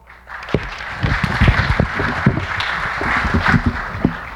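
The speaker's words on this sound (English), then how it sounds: "Big round of applause." Audience clapping for two guest speakers at a disability rights event in Thailand, a dense burst of many hands rising after half a second and holding steady for several seconds, fairly close and loud.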